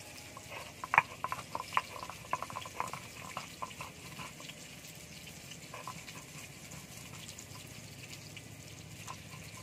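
Eggplant fries in mustard oil with a soft, bubbling sizzle. It is quiet and steady, with a few brighter crackles early on and no voices.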